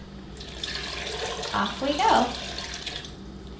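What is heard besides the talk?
water being poured into a Vitamix blender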